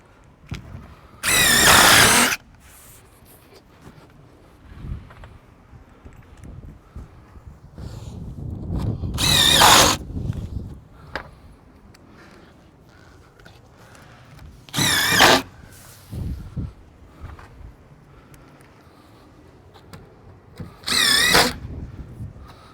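A power drill drives long screws through plywood storm guards into the substrate around doors and windows, with four loud bursts of high whining drilling spaced several seconds apart and quieter handling noise between them.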